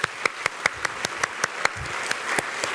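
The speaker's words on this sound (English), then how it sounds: "let's give us a round of applause for all of the people who helped put on today" A crowd at a professional development day event claps in applause, steady individual claps ringing out close and clear over a soft background of more hands.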